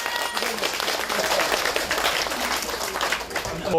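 An audience at an outdoor provincial field meeting in Uiseong County breaks into applause, a dense sustained patter of many hands clapping that swells and carries on for several seconds.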